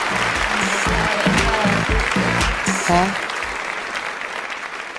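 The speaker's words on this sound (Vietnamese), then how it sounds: "một tràng pháo tay cho thí sinh Mr. Bell của quý vị" Studio audience applauding a contestant's entrance on a Vietnamese comedy stage show, steady dense clapping running throughout with a host's voice and a brief spoken exclamation over it.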